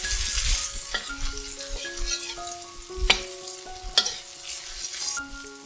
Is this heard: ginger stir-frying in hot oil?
yes